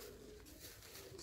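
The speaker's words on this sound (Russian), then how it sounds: "разогнал опять все голубей. Вот они мотаются все в разброс." Scattered pigeons fly off with faint soft cooing and fluttering over a low, steady outdoor background, brief and fairly distant.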